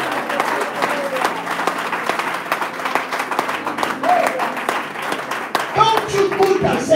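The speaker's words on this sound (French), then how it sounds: "Est-ce qu'on peut acclamer le Seigneur?" A church congregation at a revival weekend claps and applauds, a dense, lively patter of many hands filling the room, with voices rising through it and a louder burst near the end.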